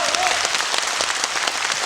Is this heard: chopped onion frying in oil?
no